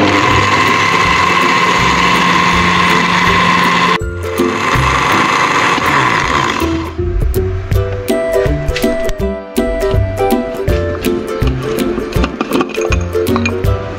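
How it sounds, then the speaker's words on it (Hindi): Electric grinder blending homemade chaat masala spices, a loud continuous whirring motor that cuts off after about four seconds, then rattling and clattering of spices and jar in pulses, close and without talk. "एक बार फिर इसे ब्लेंड करेंगे।"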